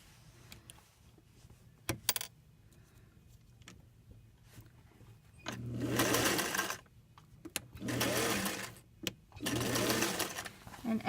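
A sewing machine stitches a fabric seam in three steady whirring bursts of roughly a second or more each, close and fairly loud, separated by short pauses with small clicks and handling noises.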